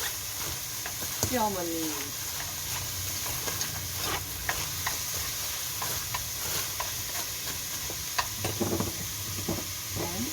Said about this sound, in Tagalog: Habang ako ay nag-stir fry ng turaji, naglalagay ng sauce.